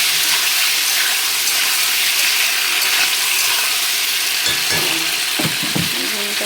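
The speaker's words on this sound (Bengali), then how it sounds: "পুরোটা খুব সুন্দর ভাজা হয়ে গেছে। মশলাটা দেবো, মশলাটা দিয়ে দিলাম।" Spiced food frying steadily in a pan, a dense continuous sizzle with brief stirring scrapes near the end.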